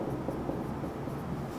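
Numbers being written on a board or paper during an arithmetic lesson, a steady close scratching of the writing stroke that runs without pause and without speech.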